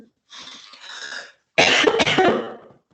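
Two harsh coughs from one person indoors, the first a longer raspy burst and the second louder and sharper after a short pause, heard alone without talk.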